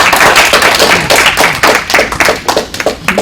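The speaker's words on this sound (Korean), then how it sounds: "우리 큰 박수로 맞이하겠습니다." Audience applause welcoming a guest pastor to the lectern at a Korean church ministers' gathering, loud and steady clapping from a room of people filling the whole stretch, with no talk over it.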